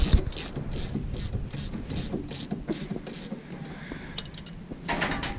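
Ratchet clicking in quick bursts while tightening a nut on a Polaris RZR side-by-side, close and fairly loud, repeated strokes with brief pauses and no talk.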